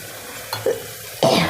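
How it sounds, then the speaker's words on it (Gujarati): A spoon stirs chutney and spices together in a pot for Gujarati mag pulav, with two short scraping strokes followed by a louder, longer sizzling stir up close. "હવે આ બધું આપણે મિક્સ કરી લઈશું"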